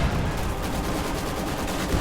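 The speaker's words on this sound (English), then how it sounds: "High explosive barrage going out on these Volksgrenadiers" A high-explosive artillery barrage in a World War II strategy game, heard as a dense, continuous rumble of rapid overlapping blasts at steady loudness throughout.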